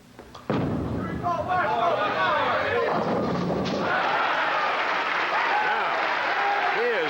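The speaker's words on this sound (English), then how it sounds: "The crowd reacts to his gestures." Crowd at a 1985 professional bowling championship final erupts in loud cheering and applause after a strike, the roar starting abruptly and holding strong, with excited voices rising within it.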